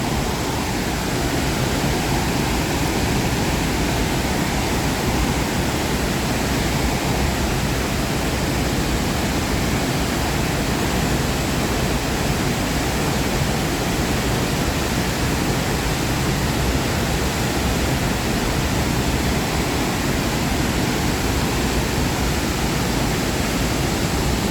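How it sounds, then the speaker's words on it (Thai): Haew Suwat waterfall in a Thai national park gives off a steady, loud rush of falling water. The dense, unbroken hiss holds level throughout, with no voices. "น้ำตกที่ไหลไป"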